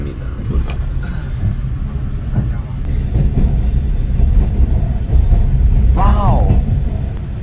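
Inside the rear carriage of a Trans-Siberian Railway train crossing snowy Russia, a loud, steady rumble and rattle of the wheels continues, with faint voices in the background and a brief warbling tone near the end.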